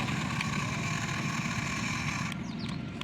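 A John Deere tractor engine runs steadily and fairly close, a continuous low rumble with mechanical clatter that holds throughout, with a brief faint high whine near the end.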